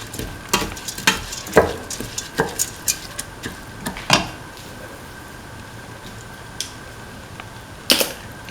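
Cumin rice gets stirred with salt in a pan, with a series of sharp spoon scrapes and taps against the metal in an uneven rhythm, most of them in the first half, over a faint background sizzle.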